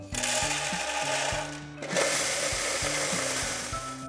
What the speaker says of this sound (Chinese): 把它打成粉末